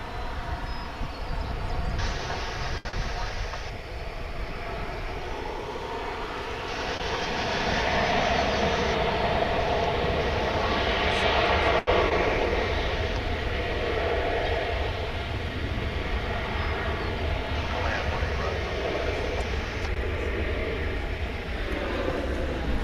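An airliner approaching and turning at Dallas/Fort Worth International Airport gives a loud, sustained roar that swells in the middle and holds steady, with a broad wash of noise throughout.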